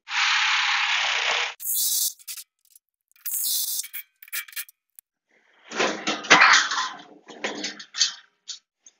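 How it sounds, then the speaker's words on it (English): Self-tapping metal screws driven into the steel cage bars of an IBC tote by a power driver, in several separate whirring bursts with short gaps, close and clear, with no talk. "Screw some self-tapping metal screws into a few of these bars to keep the base and the cage together."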